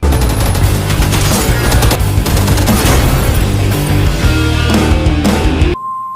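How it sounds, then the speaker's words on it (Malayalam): Rapid bursts of loud gunfire from a film teaser crackle and boom over a dense, dramatic score, cutting abruptly to near silence at the end. "വെടി മാത്രം"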